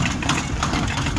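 A small soil loader machine powered by a motorbike engine runs steadily while loading soil in a village, a continuous rough mid-low engine drone with no pauses, close by.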